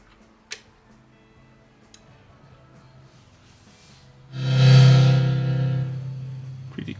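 Quiet surface ticks and faint hiss from a 43-year-old vinyl record between tracks, then a low warm swell of sound rises near the end.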